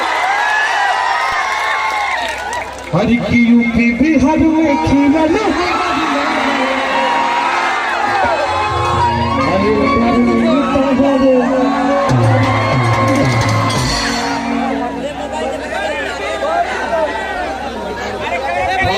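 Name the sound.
audience clapping and cheering at stage show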